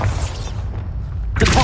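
Bombarda spell explosion in the Hogwarts Legacy video game, a heavy booming blast with a deep rumble that fades and then returns with a second sharp impact, close and loud.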